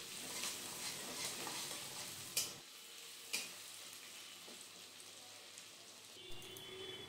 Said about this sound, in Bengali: এখন সব কিছুকে বেশ সুন্দর করে আরও 2-3 মিনিট হালকা করে ভেজে নেব